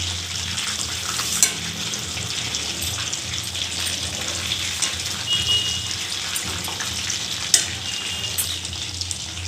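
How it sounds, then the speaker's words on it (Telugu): Chicken leg pieces fry in hot oil, a steady loud sizzle with oil splattering throughout and a few sharper pops standing out. "చూడండి, ఆయిల్ ఎగిరి పడుతుంది కదా"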